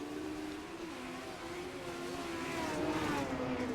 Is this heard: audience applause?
no